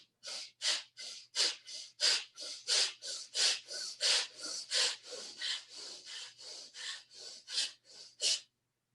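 Quick rhythmic sniffing breaths taken through the nose during a yoga breathing exercise, about two dozen sharp, evenly spaced inhales close to the microphone, with no talking.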